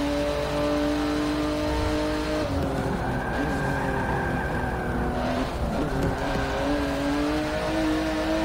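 A car engine revs steadily and loudly in Forza Motorsport 7, its pitch climbing and dipping through gear changes while tires squeal briefly, a close and continuous racing drone throughout.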